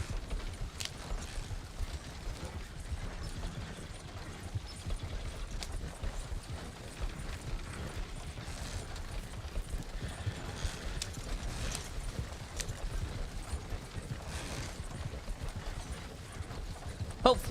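Horse hooves clip-clop steadily across the ground in a Red Dead western roleplay game, a continuous rhythmic trot at moderate distance with faint game ambience underneath.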